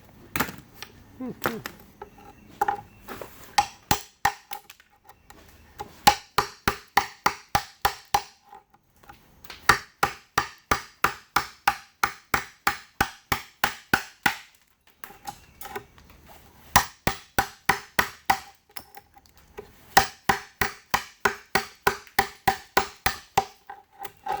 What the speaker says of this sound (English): try to just chip out like this 1/4 inch or so